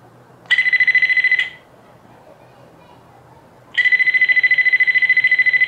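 A phone rings out with an alarm set off by a button press on an iTag key finder: two loud, steady electronic ringing bursts separated by a few seconds of quiet room background.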